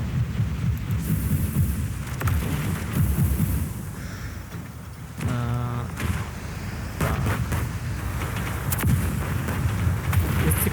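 Air strike explosions rumble and boom almost nonstop in the video game Project CW, loud and dense, with a brief lull and a tonal mechanical hum near the middle.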